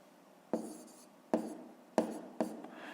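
A pen writes by hand during a fifth-grade math lesson, giving four sharp, close taps and scratches on paper, each fading into a soft scrape, with no voices.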